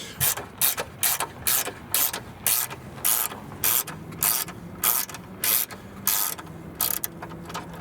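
A ratchet with a 13mm socket loosening the horn bolt on a 2020–2025 Nissan Sentra: loud, close bursts of rapid clicking that repeat in an even rhythm, with brief pauses between strokes.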